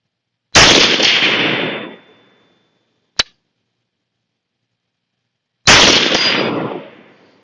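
Two loud rifle shots from a Barrett REC7 go off about five seconds apart at an outdoor range, each followed by a decaying echo. A small sharp click falls between them.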